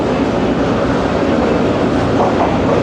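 The 40 Down Jaffar Express, hauled by locomotive 6419 ZCU20, rolls along the rails near Rawalpindi with a steady, loud, dense rumble and rattle that does not let up.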